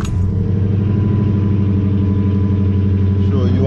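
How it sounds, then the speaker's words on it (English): A Dodge Challenger R/T engine idles after a cold start, a loud, steady low rumble with an even pulsing throb that holds throughout at close range. "Start the car."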